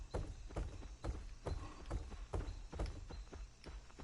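A werewolf's heavy thumping footsteps in a video game, a steady rhythm of dull, fairly close thuds roughly every half second, heard alone without talking.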